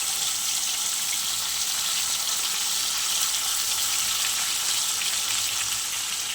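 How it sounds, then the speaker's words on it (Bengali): Pomfret fish fries in hot oil tempered with nigella seeds, giving off a continuous bright sizzle and crackle that holds steady and close throughout. "দেখো কালো জিরে ফোড়ন দিয়ে দিয়েছি, মাছটাও বেশ ভালোভাবে ভাজা হয়ে গেছে"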